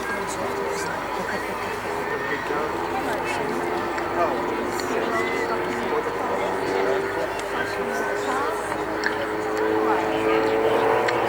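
RV-8 home-built light aircraft flying an airshow display, a steady engine drone holding loud and continuous throughout with slight swells in pitch, heard under a person talking.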